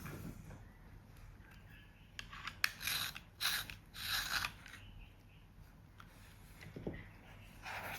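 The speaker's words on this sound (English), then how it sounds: "Let me just sharpen this." A pencil turned in a small sharpener during a stencil painting session, giving a few soft grinding, scraping bursts in the middle, fairly quiet and close, with no talking.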